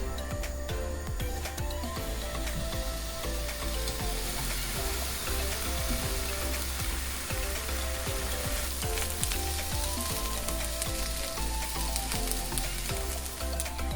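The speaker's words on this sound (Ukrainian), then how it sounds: "Піджарюємо сир на сухій сковорідці." Steady, dense crackling and hissing of halloumi cheese frying in a hot dry pan, continuous and close, with bright popping spatters throughout and no voices.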